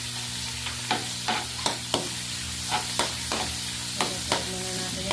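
Garlic fries in a pan for pork adobo with a steady sizzle, punctuated by regular clinks and scrapes of a utensil stirring every half second or so, close up and without speech.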